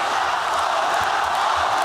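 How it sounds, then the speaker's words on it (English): A deafening sellout crowd inside the Toronto Indoor Stadium roars during a fight, a dense, sustained wall of cheering and whooping that stays loud and unbroken throughout. "A deafening sellout crowd inside the Toronto Indoor Stadium"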